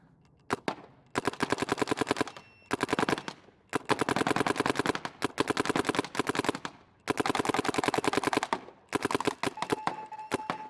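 A DLX Luxe Idol paintball marker firing rapid ball-on-ball bursts, loud sharp pops in quick strings broken by short gaps, close and alone without talk.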